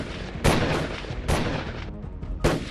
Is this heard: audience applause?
no